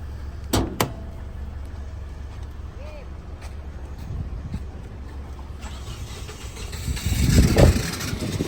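A 2013 Toyota Corolla engine idles steadily with a low rumble throughout, a couple of sharp knocks early on, and a louder surge of engine noise near the end.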